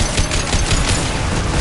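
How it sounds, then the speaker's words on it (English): Heavy, continuous gunfire in the sci-fi shooter Mass Effect Legendary Edition, a loud, dense barrage of overlapping shots and booms with no pauses. "Taking heavy fire."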